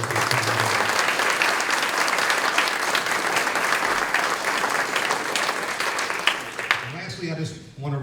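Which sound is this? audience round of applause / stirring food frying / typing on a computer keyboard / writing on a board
audience round of applause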